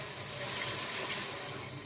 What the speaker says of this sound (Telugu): వాటర్ పోసుకోవాలి.